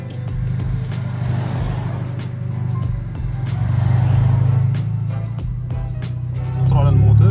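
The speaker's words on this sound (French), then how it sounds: "C'est un peu de test drive de la GTI." A Volkswagen Golf 6 GTI with a six-speed DSG dual-clutch gearbox and lowered sport chassis hums steadily on a test drive, its low engine drone swelling slightly as it pulls, with a voice talking over it.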